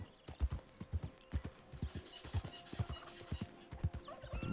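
Horse hooves gallop across meadows and dirt paths in the Red Dead Redemption 2 video game, a steady, rapid run of loud, punchy clip-clop beats with a faint whinny-like tone and light background ambience.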